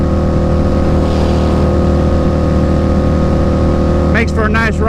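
A Harley-Davidson V-Rod motorcycle being ridden on a mild-weather commute, its engine a loud, steady drone throughout with wind rush, and a brief higher-pitched rev swell near the end.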